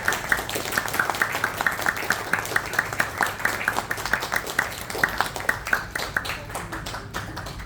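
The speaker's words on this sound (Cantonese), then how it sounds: "可唔可以大家用熱烈嘅掌聲請佢哋受助咗先" A lecture audience claps in a steady, dense round of applause to welcome the guests, many hands patting in quick rhythm at a moderate distance for several seconds, fading slightly toward the end.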